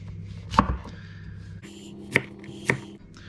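A knife strikes a cutting board three times in sparse, sharp thuds while cubing food, against a quiet kitchen background with a low hum.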